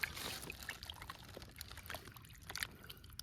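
Water pours and trickles over raw oxtail pieces as they are rinsed and washed by hand, a steady splashing close by with no talking.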